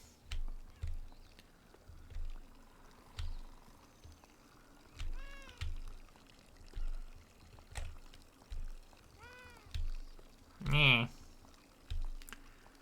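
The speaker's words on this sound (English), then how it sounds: "this is not my cat making the sound, it is the one in the game" A cat in the video game Beyond Eyes meows a few times, short rising cries spaced apart, over a steady pulsing rhythmic background.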